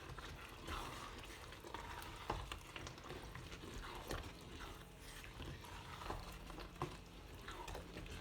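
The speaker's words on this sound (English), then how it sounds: "So once again, mix everything very nicely." Nigerian honey beans being stirred in oil in a pot, a faint steady sizzle with soft scraping and patter from the spoon, continuing evenly throughout.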